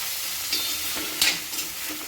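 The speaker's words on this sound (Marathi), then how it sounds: "तिखट टाकल्यानंतर छान असं परतून घ्यायचं" Kardi greens being stir-fried with red chili powder in a pan, giving a steady close sizzle with brief scraping stirs.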